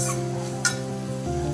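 Coriander leaves frying in a tempering for paneer bhurji give a steady close sizzle with a brief brighter crackle partway through, the hiss thickening slightly toward the end.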